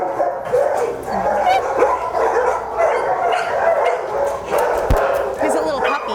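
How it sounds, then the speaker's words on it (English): A five-month-old pit bull basset hound mix puppy barks and whimpers in an animal shelter, with other dogs yapping in a steady noisy din while people talk over it. "He's a pit bull basset hound mix."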